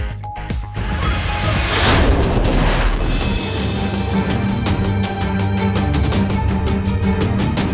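Pakistan's Nasr ballistic missile test launch: a loud sudden boom followed by a sustained roaring rush of rocket exhaust that continues steadily to the end, with no voices.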